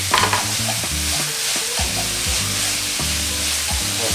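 Potatoes with chili stir-fried in a wok for a vegan dish hiss and sizzle loudly, with repeated scraping strokes of the spatula against the pan in an uneven rhythm and no talking.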